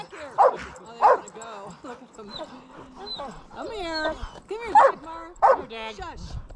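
Four pit bulls in the snow bark and yip in short sharp bursts close by, interspersed with whines, while a person talks over them.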